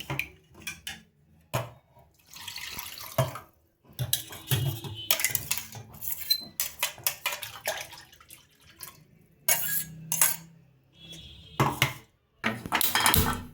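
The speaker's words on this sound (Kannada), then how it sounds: "ಇವಾಗ ಈ ಮಿಕ್ಸಿಗೆ ಹಾಕೊಂಡಿರೋದನ್ನೆಲ್ಲ ಈ ಮಜ್ಜಿಗೆ ಮಿಕ್ಸ್ ಮಾಡ್ಕೊತಾ ಇದ್ದೀನಿ" A spoon clinks and scrapes in a vessel as blended paste is stirred into salted buttermilk, with clattering bursts broken by short pauses and a faint watery swish.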